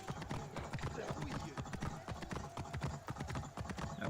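Horse hooves clip-clop at a steady, quick trot through the streets of ancient Thebes in Assassin's Creed Origins, a continuous rhythmic clatter held close throughout.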